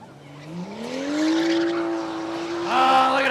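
A BMW revs hard in a burnout at a spectator drag race on Rockford Speedway, its engine note climbing and holding loud and near with squealing tires, then surging again at the end.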